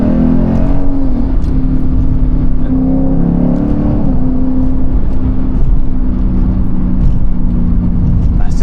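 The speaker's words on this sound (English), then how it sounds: "It's just honestly one of the best sounding V8s I've heard for a long time." A Lexus IS F V8 engine revs loudly and steadily up close, its deep rumble rising and falling with throttle blips, a voice faintly under the roar.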